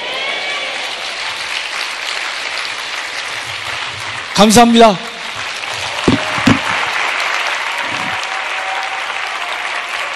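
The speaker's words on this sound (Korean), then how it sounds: "자, 한 번 더 박수를 크게 한번 쳐주셔요." Audience applause runs steadily throughout as a loud, continuous patter, while someone speaks briefly over it in the middle and a few short voiced sounds cut through later.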